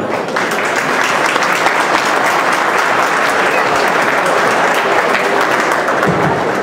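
A large gala audience delivers loud, sustained applause, a dense continuous wash of clapping from many hands that barely varies for over six seconds.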